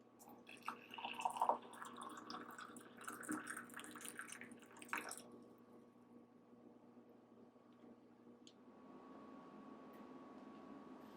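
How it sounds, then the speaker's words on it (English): Hot water poured from a kettle into a coffee mug to warm it before brewing with a Chemex: a soft splashing pour lasting about five seconds, then quiet room hum, close and alone. "fill my coffee mug up with some hot water"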